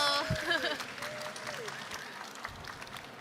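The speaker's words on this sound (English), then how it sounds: "Please give her a round of applause." Applause from the audience at the World Siphonist Championship 2023 for siphonist Chikako Nakai, a moderate clatter of clapping that thins out over a few seconds, with a voice briefly heard near the start.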